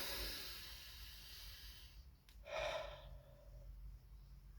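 A single deep breath drawn in through the nose and mouth, close and quiet, rising into a brief rushing inhale midway through before settling back to faint room hush.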